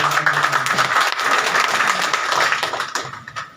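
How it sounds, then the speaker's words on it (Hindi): Audience applause at a gathering after a speaker thanks the crowd, a dense wash of many hands clapping that holds steady and then tapers off near the end. "आप सभी का भी मैं धन्यवाद व्यक्त करता हूँ शानदार तालियों के साथ आप लोग"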